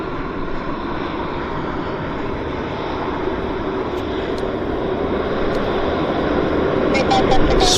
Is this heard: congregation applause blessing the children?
no